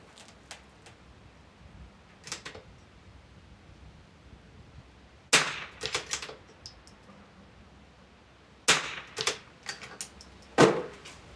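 Three sharp, loud rimfire rifle shots from a .22 ring out at an outdoor shooting range during an NRL22 match on a windy day, spaced a few seconds apart, with fainter cracks and clicks earlier on.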